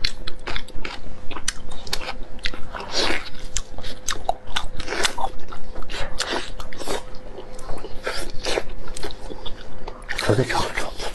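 Crunchy roasted duck being bitten and chewed close up, a run of crisp crackling bites and wet chewing repeating steadily over quiet background, with a louder crunch burst near the end.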